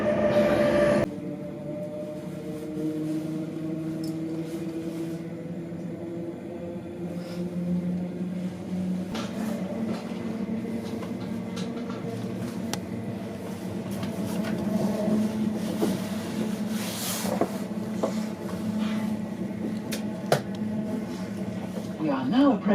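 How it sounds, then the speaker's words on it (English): Electric train speeding along rails in the UK, heard from inside the carriage as a steady rumbling roll with faint wheel squeals and rattles, moderately quiet and continuous, with no talk. "So we're speeding along, and I think we've changed onto electric traction."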